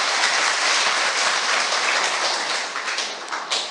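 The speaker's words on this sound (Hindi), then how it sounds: "ताली बजाएं खुद के लिए" Dense, steady applause from an audience at a stress-relief wellness camp gathering, filling the space loudly for nearly four seconds before thinning slightly toward the end, with no talking over it.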